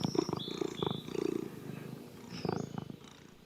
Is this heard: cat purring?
yes